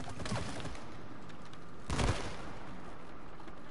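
A glue gun fires in the co-op video game It Takes Two, with a few soft bursting shots, one louder blast standing out midway over a steady game background.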